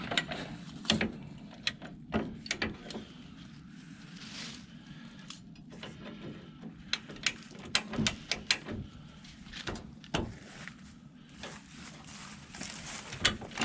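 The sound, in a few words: bumper jack ratcheting, lifting 1965 Ford Galaxie 500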